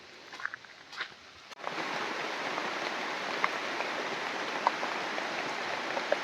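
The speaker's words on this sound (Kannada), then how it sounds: "ಅಷ್ಟರಲ್ಲಿ ಮಳೆ ಬರೋದಕ್ಕೆ ಸ್ಟಾರ್ಟ್ ಆಯ್ತು ನೋಡಿ" Rain begins falling on an arecanut plantation. Scattered drops are followed by a sudden, steady, dense patter that continues evenly and close by, with no voices.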